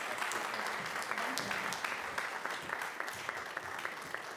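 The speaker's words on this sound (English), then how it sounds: "Round of applause" A congregation applauds at a Shabbat evening service, steady dense clapping from many hands with a few sharper nearby claps standing out, sustained for the whole stretch without talk.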